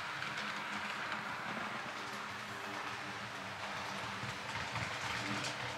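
A model SU46 locomotive pulls a train of wagons along its track, giving a faint, continuous rolling clatter throughout with no talking.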